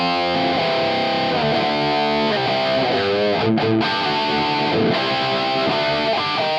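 An electric guitar through a Marshall DSL20H tube amp plays distorted, crunchy chords and riffs with a thick tone, low gain and high volume, loud and continuous with no talking.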